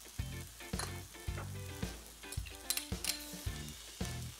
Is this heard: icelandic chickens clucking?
no